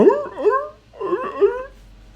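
Dogmeat, the dog companion in Fallout 4, whimpers in slowed-down motion: two long, low, warbling moans, loud and close, the second trailing off.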